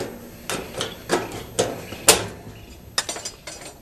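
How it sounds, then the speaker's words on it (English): Tin snips cutting through a sheet metal trash can between drilled holes, about eight sharp metallic snips and crunches at an irregular, unhurried pace, close by. "I'm just going to use the tin snips to connect the holes"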